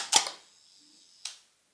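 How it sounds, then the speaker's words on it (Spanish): A Hasselblad 500C medium-format film camera's shutter fires with a crisp mechanical click, followed about a second later by a second, softer clack as the mechanism closes, quiet and close with no talk. "Y yo pulso y suelto, sigue funcionando el obturador"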